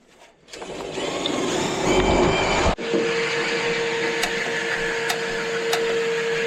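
A vacuum cleaner cleaning a 14-year-old water heater runs with a steady, loud motor whine after a brief quiet start, with a short break midway and faint clicks on top.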